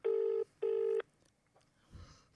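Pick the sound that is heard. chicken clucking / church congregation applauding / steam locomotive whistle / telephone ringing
telephone ringing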